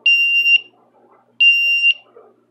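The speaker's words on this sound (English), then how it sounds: "These are basically just a pair of glasses that beep" Two long, piercing electronic beeps, each lasting about half a second, separated by a short pause, loud and close with near silence between them.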